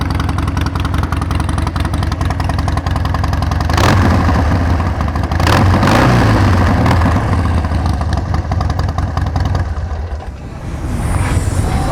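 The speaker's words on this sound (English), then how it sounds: "Let's see what the pipes sound like. Started up real smooth, no hesitation" A Harley-Davidson Sportster Custom XL1200C motorcycle idles steadily through its pipes and is revved in loud surges, first near four seconds and again near six, then settles back to a rumbling idle. The sound is close and continuous, with no voices.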